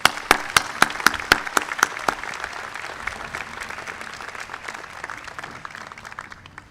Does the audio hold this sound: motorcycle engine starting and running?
no